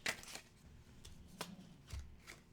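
Tarot cards being shuffled by hand, soft riffling and slapping bursts, a few brief ones close and quiet, with no talking.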